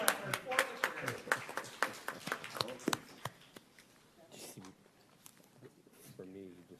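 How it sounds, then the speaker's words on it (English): Scattered, brief clapping from a few people at a county board of supervisors meeting, sharp individual claps close by that fade out, followed by quiet talk. "big round of applause on the record for the chair"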